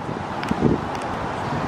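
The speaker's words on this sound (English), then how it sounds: "Very windy." Wind gusting outdoors at Fairmount Park in Riverside beside a displayed steam locomotive, a brief rough buffeting rush close to the microphone.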